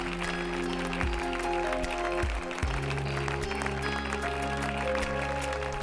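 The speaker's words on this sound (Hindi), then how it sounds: "A huge round of applause for this lovely couple." An audience claps for a couple at a wedding celebration on a television drama set. The applause forms a steady, dense patter over sustained music, with no voices standing out.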